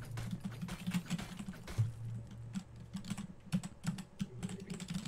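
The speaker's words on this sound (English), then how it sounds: "We can hear your keyboard." Computer keyboard typing picked up on a gamer's voice chat microphone during a Valorant match, a quick, uneven stream of close clicky keystrokes over a low background hum, with no talking.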